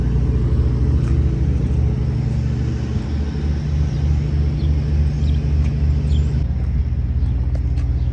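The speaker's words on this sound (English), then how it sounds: "We're gonna fire it up now and then drive it." A 1976 Pontiac Grand Prix Model SJ engine runs at a steady, loud idle, a continuous deep rumble that dips briefly and then settles again, heard up close with no talking.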